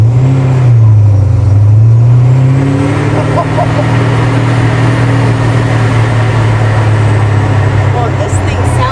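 Classic custom truck, the 'F-Bomb', running with a deep, loud engine rumble that climbs and dips in pitch as it revs, close up and sustained throughout.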